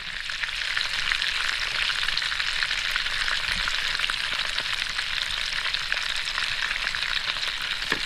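Bacon frying in a pan for a stacked burger gives a steady, loud, close sizzle with dense crackle and spitting that holds evenly throughout, with no voices.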